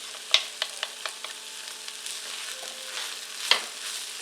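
Vegetarian stuffing being stirred in a pan on low heat: a few sharp scrapes and clicks of the utensil, one loud knock near the start and another near the end, over a faint steady sizzle.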